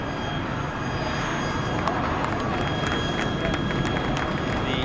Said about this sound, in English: The E195E2 Profit Hunter in flight.